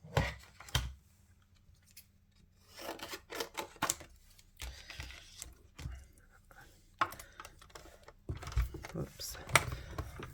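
Scissors cut a piece of card in short, uneven bursts of snipping and rustling, fairly close, with quiet pauses between the cuts.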